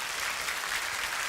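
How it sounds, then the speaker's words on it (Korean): A church congregation applauds in a steady, even wash of many hands clapping together, sounding moderately distant and continuous for a short stretch with no clear voices. "여러분 한번 박수로 하나만 영광을 돌려주셨으면 좋겠습니다"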